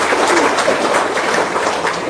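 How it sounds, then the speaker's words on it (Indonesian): Short burst of audience applause at an Indonesian motivational seminar, dense steady clapping from a crowd throughout with no speech over it. "Tepuk tangan dong."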